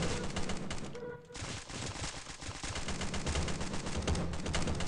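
Dense, continuous gunfire from the 2D shooter Stick Warfare Blood Strike, rapid overlapping shots and bursts crackling loudly throughout with only a brief lull near the start.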